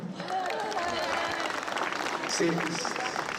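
An audience at a liberation anniversary evening applauds FC Lorient, a steady patter of clapping from a crowd in a hall that carries on through the whole stretch, with a voice rising briefly over it.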